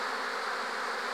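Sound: bees carrying pollen

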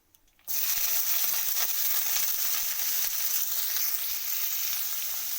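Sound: chopped onion and garlic frying in a pan

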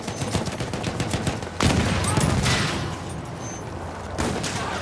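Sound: enemy machine gun fire in the video game Battlefield 1

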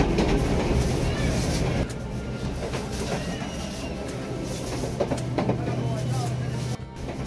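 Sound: historic train starting its journey in Uruguay

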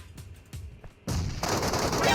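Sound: gunfire in the video game PUBG Metro Royale

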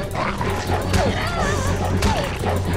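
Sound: dog barking and attacking, from The Walking Dead video game

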